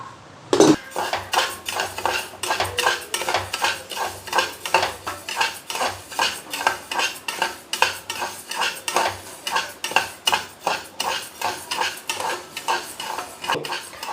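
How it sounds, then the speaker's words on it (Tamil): Moong dal dry roasting in a pan for homemade pongal, stirred with a metal spoon in steady rhythmic scrapes and clinks against the pan, close and loud, with a faint low hum beneath and no talking. "பாசிப்பருப்பு வறுக்க போகிறேன் வறுத்து பொங்கல் செய்ய போகிறேன்"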